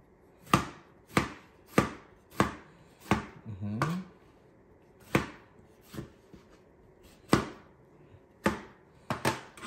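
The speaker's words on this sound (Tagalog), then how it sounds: "Ganyan lang yung pagkakahiwa na tomatis." Two tomatoes being chopped with a knife on a cutting board during Filipino home cooking: about a dozen sharp, distinct knife strikes in an irregular rhythm, close and clear, with a brief scraping sound midway.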